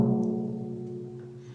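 A snare drum with its snares disengaged, struck once and left to ring: a deep, round, tom-like tone with a sustained pitched hum that slowly decays, alone and fairly close.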